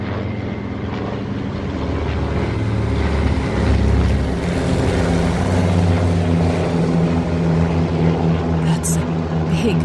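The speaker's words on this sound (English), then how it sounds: "Those are twin-engine planes up there." A large V formation of about 17 twin-engine propeller planes drones overhead in a loud, continuous throbbing roar that swells slightly midway and holds steady.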